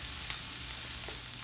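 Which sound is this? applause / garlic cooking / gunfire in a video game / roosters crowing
garlic cooking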